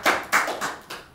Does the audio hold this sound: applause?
yes